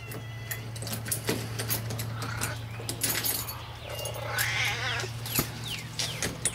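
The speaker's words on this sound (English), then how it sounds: "Maybe a cat fight." Cats caterwauling and yowling in a fight outdoors, heard near a paint shop, a few loud rising wails over a steady low hum and background noise.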